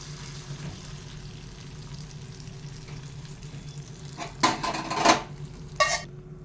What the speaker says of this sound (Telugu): ఇప్పుడు మనం ఈ పోపు తీసి దీనిలో వేసేసుకుందామండి